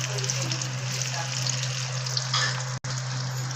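Dal vada batter sizzles in hot oil in a kadhai, a steady bubbling crackle with a constant low hum beneath, close and continuous apart from a brief dropout near the end.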